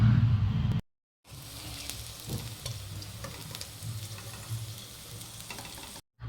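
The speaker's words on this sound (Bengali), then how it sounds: "দেখুন দু পিঠটাই মুচমুচে করে ভাজা হয়ে গেছে" Banana flower fritters frying in oil on a low gas flame, a steady close crackling sizzle that continues on its own after a brief silence, with no voices.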